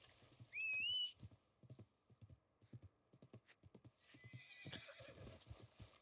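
A horse neighs loudly in a rising whinny, then hooves clip-clop in an uneven rhythm, with a second shorter whinny near the end.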